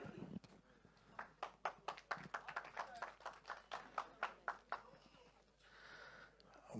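Audience clapping at a film trailer launch event in a hall, a short burst of rhythmic, fairly faint claps that fades out, with background crowd murmur.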